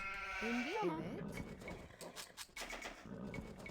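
A sheep in an Age of Empires match gives a short, clear bleat near the start, followed by a busy game soundscape with talking over it.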